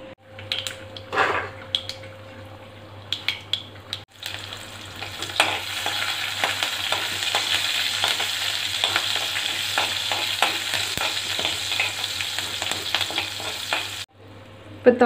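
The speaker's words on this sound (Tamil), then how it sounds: "ரெண்டு நிமிஷம் குழம்பு கொதிக்கட்டும்." A pot of dried fish curry with ground coconut bubbling on the stove, a steady close sizzling and simmering hiss with a few faint utensil clicks, starting after a brief quieter moment.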